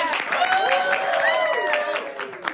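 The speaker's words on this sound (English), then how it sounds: "let's give a round of applause to everybody who just came in." Round of applause at an artist show-and-tell gathering, light clapping mixed with overlapping voices and cheering, people talking over it throughout.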